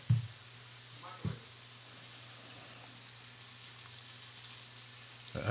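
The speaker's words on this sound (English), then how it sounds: "I hear everything, frying, all this." Steady sizzling fills the clip, a constant hiss of food frying, with a low hum underneath and a few brief knocks and clatters.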